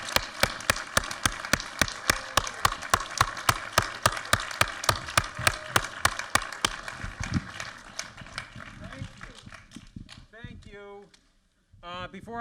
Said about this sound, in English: big round of applause for the great Sam Harpoon